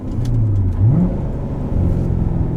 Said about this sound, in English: So that turns on and off the rev match downshifts for the manual transmission.